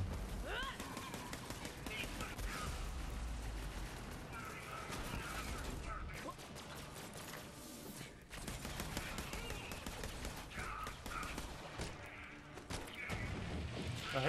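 Borderlands 3 gunfire crackles in rapid bursts among mechanical clicks and reload clatter, dense and continuous across the scene, with a voice talking at times underneath.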